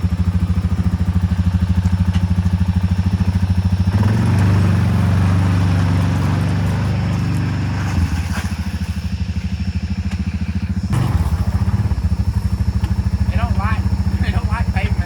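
A 2014 Yamaha Viking UTV engine runs loud and steady throughout, a low rumbling drone that surges around the middle, with someone talking over it.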